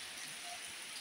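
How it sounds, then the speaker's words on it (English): Rain on a rainy day in Paynesville, Liberia: a faint, even hiss of falling rain with soft scattered patter, steady throughout and with no voices. "We got a rainy day today in Liberia."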